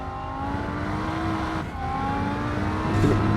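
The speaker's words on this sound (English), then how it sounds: "You can hear the TC kicking in there, just whirring away in the background." A race car's traction control whirs steadily in the background of the Rennsport racing simulator, a continuous mid-level mechanical hum blended with engine and tyre noise and no talking.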